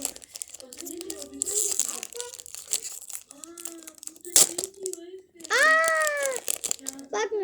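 Crinkly plastic packaging of an LOL doll toy is torn open and crumpled in short, sharp bursts, with someone speaking and babbling in between the rustles.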